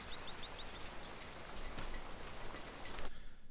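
In the Farming Simulator 15 video game, steady rain or hail falls in a dense, even hiss of many drops, moderately loud and continuous, while a few faint bird chirps come through early on.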